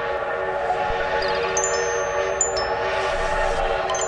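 A train whistle sounds in short tonal blasts partway through, layered over a steady, busy rumble of rail noise, with no talking.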